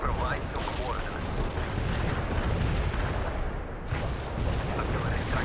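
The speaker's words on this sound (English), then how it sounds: "Artillery strike on the way." Artillery in the World in Conflict battle game pounds continuously, with heavy booms and rumbling blasts layered over a thick din of combat noise and voice chatter.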